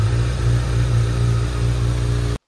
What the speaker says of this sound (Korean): 굉장히 안정적인 엔진 필링과 배기 사운드.